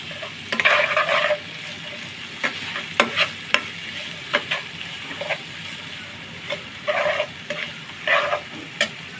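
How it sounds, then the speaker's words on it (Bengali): Eggplant frying in a pan for hotel-style begun bhorta, with close, continuous sizzling broken up by repeated bursts of stirring and scraping, and no voices. "একটু সময় নিয়ে ভাজবো লাল লাল করে"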